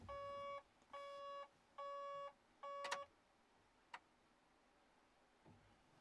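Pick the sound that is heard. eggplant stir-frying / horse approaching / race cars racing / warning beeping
warning beeping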